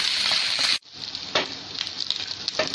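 Onions frying with ginger garlic paste in a pan for Hyderabadi mirchi ka salan, a steady close sizzle with a brief break, then crackling and spattering resumes, with faint stirring.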